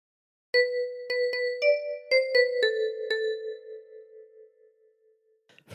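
A short phrase of a meme tune is played on a 10-key kalimba: about eight plucked, ringing metallic notes in a lilting rhythm, overlapping and sustaining close up, then fading before a faint rustle, with no talking.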